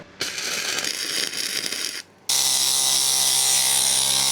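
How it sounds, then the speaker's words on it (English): Wire-feed welder laying a bead on rusty metal of a Porsche 911 project car, a steady loud crackling sizzle that runs in two continuous bursts separated by a brief pause. "Grind and weld, grind and weld."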